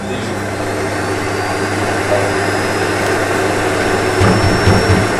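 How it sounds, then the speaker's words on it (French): A vacuum cleaner drones loudly and continuously, a steady whooshing roar with a faint whine riding on top. "Arrête de passer l'aspirateur"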